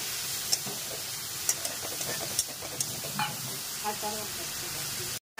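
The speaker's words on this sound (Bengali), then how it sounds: "এর মধ্যে আমরা যে মশলাটাকে আমরা জলে ভিজিয়ে রেখেছিলাম ওটাকে আমরা দিয়ে দিলাম" Water-soaked spice paste hitting hot oil while cooking cauliflower curry, a continuous moderate sizzle punctuated by several sharp utensil clicks and brief crackles, then cut off abruptly near the end.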